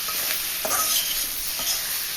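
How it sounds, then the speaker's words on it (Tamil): Soya chunks stir-fried in a hot pan give a steady close sizzle, with a few soft scraping stirs cutting through the frying hiss. "இப்போ நம்ம சோயாவை சேர்த்து நல்லா வதக்கி எடுத்துக்கலாம்."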